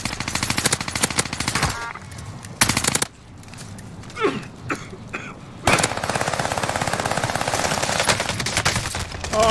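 Rapid automatic gunfire in Call of Duty Warzone Rebirth comes loud and close in dense bursts, breaks off briefly, then resumes in a long sustained stream.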